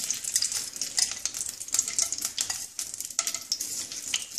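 Whole garam masala spices and bay leaf fry in a spoonful of hot oil in a pan, a close, crackling sizzle broken by repeated scraping stirs.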